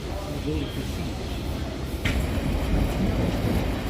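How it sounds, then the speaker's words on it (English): A London Underground train rumbles steadily at close range, with a low rolling roar and a brief sharp rattle midway, and people talking over it. "going to be taking the underground train"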